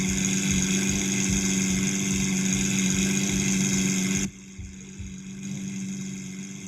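A Lamborghini Aventador S engine idles in a Roblox driving game, a loud, steady throbbing drone that drops abruptly in volume partway through and then continues more quietly.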